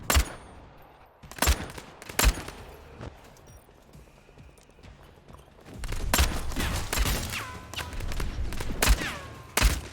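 Gunfire in the vampire battle royale game Bloodhunt, with sharp shots in bursts early on, then a dense stretch of rapid fire and impacts, some shots close and loud, others farther off.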